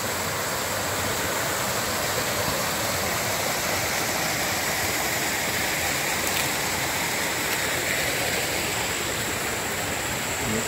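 Water pours steadily from a pump-fed waterfall with about a 1.1 meter drop and a small rapid, making a loud, continuous rushing splash with no voices.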